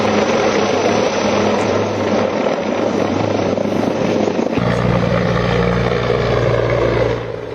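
Helicopter engine and rotor drone from a search operation in the hills around Pahalgam, a loud continuous roar that shifts to a deeper, steadier throb partway through, with no talk.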